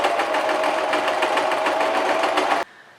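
Sewing machine stitching the hem of a tank top cut from a white band tee, a steady rapid mechanical whir with regular stitch pulses running close and loud for over two seconds before stopping abruptly.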